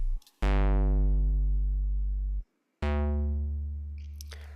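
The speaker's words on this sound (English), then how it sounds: "So if I turn off the tone shaping and the roar on its own, the bass sounds like this." A deep, clean synth bass plays two long sustained notes separated by a short gap, smooth and steady with no grit or distortion.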